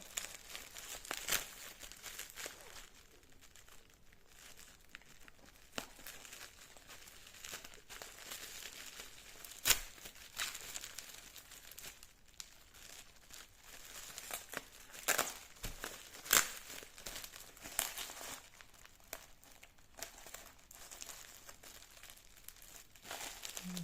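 Faint, intermittent crinkling and tearing of adhesive tape being peeled from a shipped package, with scattered sharp crackles over a long stretch.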